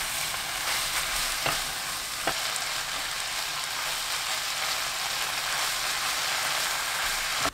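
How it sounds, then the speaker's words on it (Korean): Kimchi and meat stir-fry over high heat with a steady, close sizzle, and faint scraping stir strokes click through it now and then. The sizzle goes on throughout with no voices. "김치 넣고 2분 볶아주세요."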